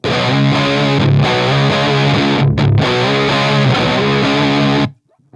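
An electric guitar with hot output pickups, from a clean amp through a Monkey Riot Backseat Driver Dynamic Overdrive pedal, plays sustained distorted chords, loud and close, then cuts off abruptly near the end.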